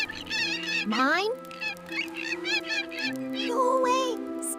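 A cartoon goose squawks and honks loudly in a desert scene, with sharp, rising cries in quick succession and a voice speaking between them.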